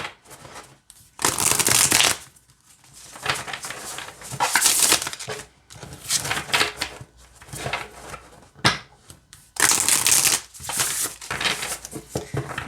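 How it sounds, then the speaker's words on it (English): Starcodes Astro Oracle cards being shuffled by hand in repeated bursts of riffling and flicking, close and crisp, with short pauses between rounds. "let's see how it shuffles"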